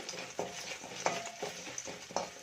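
A spoon stirs turmeric into frying ghee in a pan while pongal is being made, giving a soft sizzle with about six sharp scrapes and clinks at a regular pace, close up with no talking.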